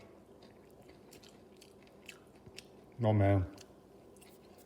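Crunching bite into a crispy, lightly salted tater tot fresh from a JoyOuce 5.8-quart air fryer, one loud close crunch burst lasting under a second amid quieter room sound and nearby talk.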